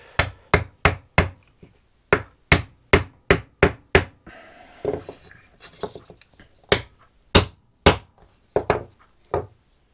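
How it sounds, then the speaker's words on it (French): A hammer taps a wooden straight-cut joint made with a table-saw jig into place, about fifteen sharp, close, loud knocks in a quick series, then a brief pause with faint handling noise before more spaced blows. "plutôt au maillet, là, comme c'est juste un test, je m'autorise le marteau"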